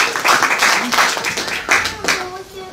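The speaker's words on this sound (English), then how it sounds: "Let's give him a round of applause" Audience applause for a performer at a live event, a few seconds of close, dense clapping in uneven swells, with voices mixed in.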